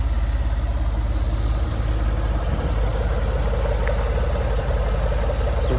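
A 1998 Alfa Romeo 156 with the 2.5 V6 engine idling with the air conditioning running, a steady, close, even low rumble with a fine rhythmic pulse and no voices.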